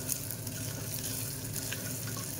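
Sugar caramelizing in a cooking pot: a steady, close, hissing sizzle with a faint bubbling crackle, constant and unbroken throughout.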